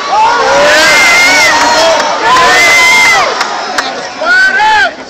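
A political rally crowd in Philadelphia cheers and whoops loudly and continuously. Many voices rise and fall in excited shouts, close and full, with brief dips before swelling again.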